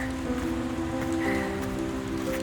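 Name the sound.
heavy rain falling on Baltoro Glacier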